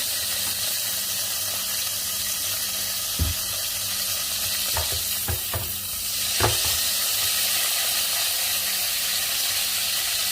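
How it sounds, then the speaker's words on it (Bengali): Mustard oil heating in a kadai gives a steady, close sizzling hiss throughout, with a few sharp clicks and pops near the middle. "আমি আর একটা অন্য আর একটা কড়াইতে তেল দিচ্ছি সরিষার তেল"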